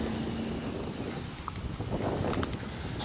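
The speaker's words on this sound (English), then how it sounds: "Hopefully the wind will die down." Gusty wind blows outdoors during car washing, a steady rushing buffet across the microphone with no voices, close and fairly loud throughout.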